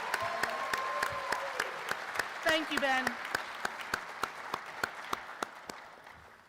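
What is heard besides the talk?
audience applause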